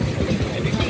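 A vintage vehicle engine running at the Staple Country Fayre, a steady low throbbing idle heard close up for a brief moment.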